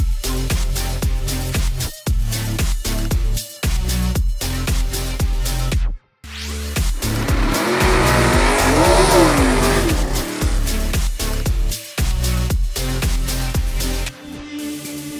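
Race cars roaring past at Firebird Raceway's Halloween Classic, loud engine passes with a squealing, wavering tire tone in the middle, broken by brief drops between passes.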